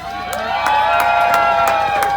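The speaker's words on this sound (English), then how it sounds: "She deserves all of that applause and more." An outdoor crowd at a Holiday Train community stop claps and cheers loudly and steadily, with whoops rising over a dense wash of applause.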